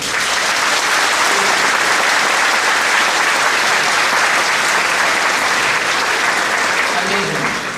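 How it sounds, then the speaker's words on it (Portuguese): A church congregation claps at a tribute for a pastor, producing loud, dense, sustained applause that stays steady and close for the whole stretch. "vamos bater palmas"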